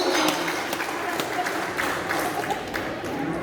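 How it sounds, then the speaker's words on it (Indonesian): Applause from a congregation during a Batak clan New Year worship service, a steady dense wash of many hands clapping at moderate volume that carries on through the whole stretch. "Tepuk tangan dulu bapak-bapak buat itu."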